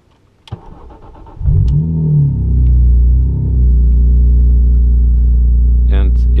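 A car engine starts with a sharp crank, then settles into a loud, steady close rumble with a brief rise in revs, heard from inside the car at the Nürburgring in sport mode.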